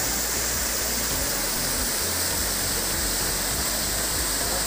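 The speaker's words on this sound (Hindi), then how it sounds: "बढ़िया पानी पड़ी" Ashur Ghati waterfall roaring as a dense, continuous wash of falling water, loud and steady throughout with no voices.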